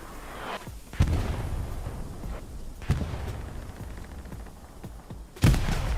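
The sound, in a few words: grenade explosions in the video game Hell Let Loose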